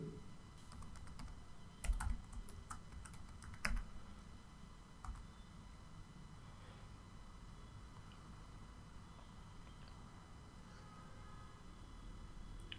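Computer keyboard typing while entering a new username and password during a Windows Subsystem for Linux setup on Windows 10, sparse quiet clicks with a couple of louder keystrokes early on over a steady room hiss.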